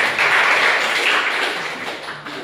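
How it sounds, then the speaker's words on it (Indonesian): A meeting audience applauds a presenter, the clapping rising quickly to a dense patter and then thinning out gradually over about two seconds. "Aplaus buat narasumber 3."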